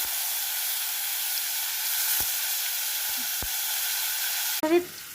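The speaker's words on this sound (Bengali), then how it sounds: "সর্ষের তেল গরম হয়ে গেছে, পনিরগুলো এখন ছেড়ে দিব এর মধ্যে" Paneer pieces frying in hot mustard oil give a steady, fairly loud sizzling hiss that runs alone throughout, with a few sharp clicks and a brief burst of spattering right at the end.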